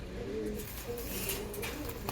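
Pigeons of Malawi and Teddy breeds coo softly and repeatedly at close range, a steady low warbling that runs without pause.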